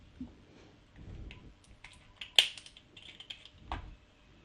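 A small hinged filling flap on the top of an Eleaf Pico 25 vape tank clicks open with a few faint plastic taps and one sharper snap, close and quiet with no voices.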